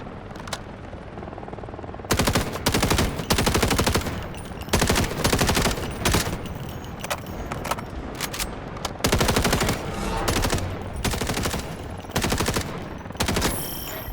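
Bursts of rapid automatic fire from a submachine gun resembling the UMP 45 or SIG MPX in the video game Delta Force, loud, close strings of shots separated by short pauses, repeating over and over.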